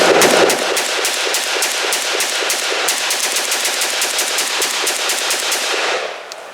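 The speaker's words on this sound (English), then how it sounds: "Z-Pack, very first shots." A Zastava Z-Pack AK rifle chambered in 7.62x39 fires its first shots at an outdoor range, a loud rapid string of sharp cracks at a steady rhythm lasting about six seconds, close and alone.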